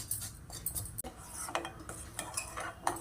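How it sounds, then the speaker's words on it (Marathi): A spoon stirring jaggery milk tea with grated ginger in a metal pot as it comes to a boil, quick clinks and scrapes against the pot in irregular bursts, close and alone. "आता आपण याला असं चमच्यानं ढवळत राहायचं आहे।"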